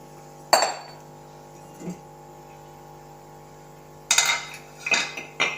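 Pieces of fish curry are lifted out of a pot and into a serving dish, making a few separate clinks of utensil against metal and dishware at close range, with quiet pauses between them and no talking.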